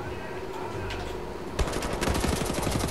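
Rapid automatic gunfire in the Wolfenstein video game, a quieter stretch giving way to a dense, loud burst of repeated shots in the second half.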